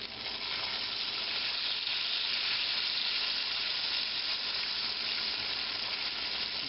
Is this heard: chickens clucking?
no